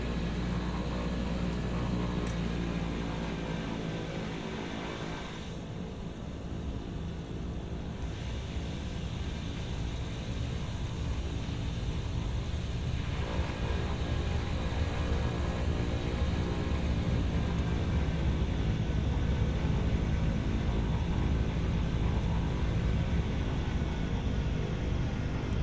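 A Beechcraft Bonanza converted to turboprop drones steadily in flight under cloudy skies, the broad engine and wind roar heard from inside the cabin, constant and unbroken throughout.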